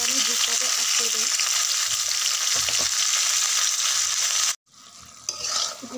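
Raw mango pickle frying in a pan makes a loud, dense, continuous sizzle that cuts off abruptly, then returns more softly with a few stirring sounds.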